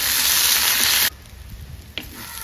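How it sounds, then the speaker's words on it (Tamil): Chopped okra sautés in hot oil with a loud, dense sizzle that cuts off abruptly about halfway, leaving quiet background with a brief small clatter. "எடுத்து இந்த மாதிரி நல்லா எண்ணெயிலே கொஞ்சம் வதக்கி விட்டுக்கணும்"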